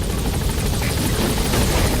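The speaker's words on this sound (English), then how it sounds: "I'll send the extraction chopper." In a video game, an extraction helicopter arrives with a loud, steady rotor roar and chopping thrum that fills the whole moment without letting up.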